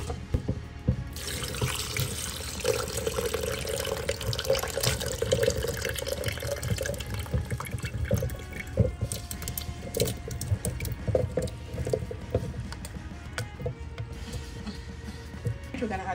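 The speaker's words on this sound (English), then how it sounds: "We're gonna add some water as well" Water pours and splashes steadily into a blender with sea moss and beetroot for several seconds, a continuous rushing flow close by.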